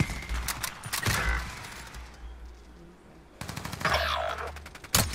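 Rapid automatic gunfire in Call of Duty: Warzone comes in loud close bursts at the start and again near the end, with a quieter gap between and a player's voice talking over the shooting.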